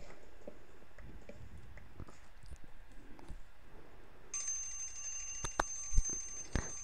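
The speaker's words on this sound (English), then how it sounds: "That's my timer." A timer alarm starts beeping partway through, a sustained high electronic ringing that keeps going over low, muffled rustling and scattered knocks in the room.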